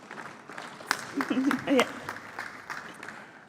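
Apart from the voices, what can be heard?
applause welcoming a speaker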